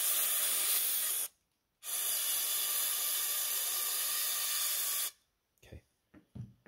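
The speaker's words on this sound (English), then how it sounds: "we will squirt a good amount of carburetor cleaner" Carburetor cleaner is sprayed from a can into a John Deere B tractor engine part. There is a short burst of hiss, a pause, then a longer steady spray, followed by faint handling clicks and a voice at the end.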